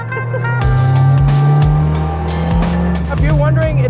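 A custom-built Honda Civic engine runs loud and steady with a deep drone, its pitch shifting with revs, while a person talks over it.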